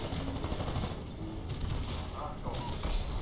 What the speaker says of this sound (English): I can hear the smart pistol.